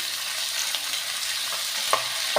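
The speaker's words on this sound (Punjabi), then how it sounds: "ਆਪਾਂ ਲਗਾਤਾਰ ਹਲਾਉਂਦੇ ਹੋਏ ਇਹਨਾਂ ਨੂੰ ਪਕਾ ਲਾਂਗੇ ਕਰੇਲਾ ਦੇ ਵਿੱਚ" Sliced onions frying with bitter gourd in a pan, stirred steadily with a spoon, giving a continuous close sizzle with a few soft scraping knocks and no talking.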